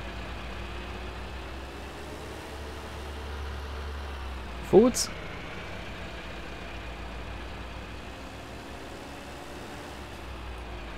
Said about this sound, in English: Definitely got custom engine sounds on these.